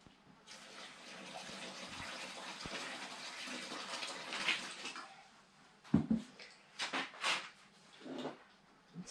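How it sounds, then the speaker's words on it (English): Water pours steadily into a well made in the middle of a dry mix for a ceiling during renovation of a ruin in central Portugal, a broad continuous gush for about five seconds, then a few short splashes and bumps. "I'm going to pour in some water."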